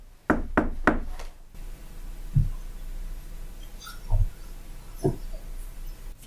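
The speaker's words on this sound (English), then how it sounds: "knock on the wall, can you echo back the same thing?" Knocks on a wall in a reputedly haunted house: a quick series of four sharp raps, then a pause and three sparser, softer knocks answering in a quiet room.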